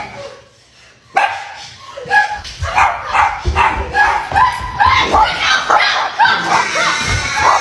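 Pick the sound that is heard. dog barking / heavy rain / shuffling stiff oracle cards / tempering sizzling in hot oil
dog barking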